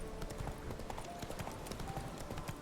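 Roach, Geralt's horse in The Witcher 3, trots with a steady, rhythmic clip-clop of hooves, fairly faint and continuous, with a voice speaking briefly.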